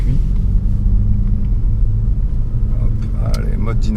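An Alfa Romeo Giulia QV with a 510 hp engine accelerates, its deep rumble steady and loud from inside the cabin, with a voice talking over it toward the end.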